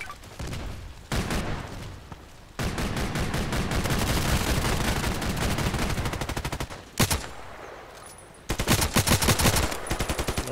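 Sustained machine gun fire in the shooter game Contract Wars, loud and close, with long rapid bursts broken by short pauses and a final fast rattling volley.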